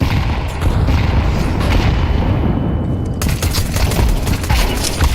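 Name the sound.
grenade explosion in a video game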